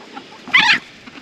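A single brief squawk from a young mixed-breed rooster on a farm, a short rough call rising out of quiet background.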